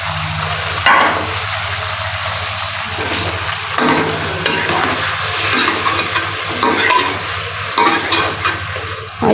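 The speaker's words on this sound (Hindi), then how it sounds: "और इसको जो है वो हमने 5 मिनट के लिए फ्राई करना है।" Eggplant and potato sabzi frying in a pan, a steady close sizzle with stirring scrapes and clatters running throughout, no voices.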